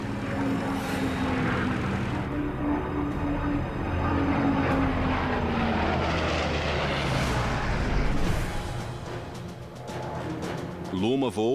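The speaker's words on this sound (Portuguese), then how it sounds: "Vimos um Junker 52, um velho avião de transporte de 3 motores." Old Junkers Ju 52 three-engine transport plane flying, a continuous loud droning engine roar that swells and fades, heard under a narrator's voice.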